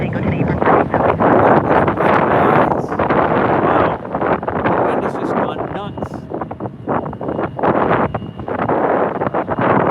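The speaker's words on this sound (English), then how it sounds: "the wind throwing the camera around" Strong gusts at an outdoor airport plane-spotting spot pound the camera and microphone with loud, continuous rumbling wind buffeting that swells and dips throughout.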